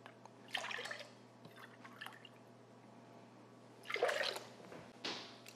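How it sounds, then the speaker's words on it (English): Eggs and milk go into a bowl for a make-ahead breakfast casserole custard, heard as a few soft splashy pours and drips, close and fairly quiet, with no talk. "We're gonna add 8 large eggs, 2 cups of milk."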